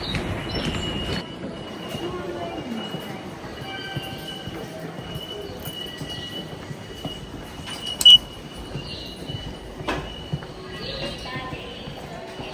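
Commuter train noise at a station: steady rail rumble and wagon clatter throughout, with a brief sharp metallic clank partway through, a busy ambient background without clear speech.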